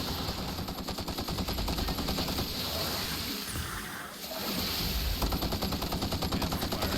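Sustained automatic gunfire from The Outer Worlds rattles in a steady rapid stream, briefly dipping before resuming at full intensity, loud and continuous throughout.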